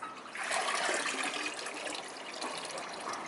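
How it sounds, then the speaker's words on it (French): A double-flush toilet rushes and gurgles as water drains through the bowl, a close, steady wash of flowing water with no talk. "Quand on appuie là, les trucs dans les toilettes, ils partent tout seuls, on n'a pas besoin de l'eau."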